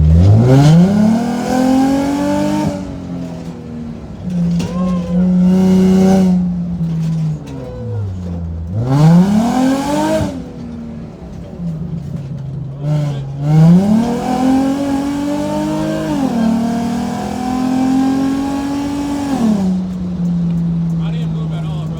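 An Infiniti G35 engine, fitted with a racing seat and stripped for weight reduction, revs loudly through a corner, its pitch repeatedly climbing and falling in strong up-and-down sweeps across about twenty seconds.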